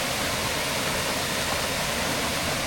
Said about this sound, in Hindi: देखो झरना अपना सफ़ेद पानी।